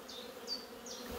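Honey bees buzz steadily around a hive and nucleus box, a close, continuous drone with a few higher whining passes of individual bees.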